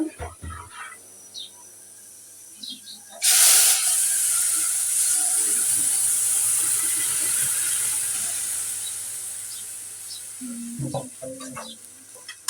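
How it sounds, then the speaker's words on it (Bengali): Browned garlic tempering hits a pot of lentils with a sudden loud sizzle that settles into a long, gradually fading hiss, with quiet kitchen clatter before and after. "আমি রসুনটা বাদামি কালার করে নিয়েছি এখন ডালটা বাগার দিয়ে দেবো"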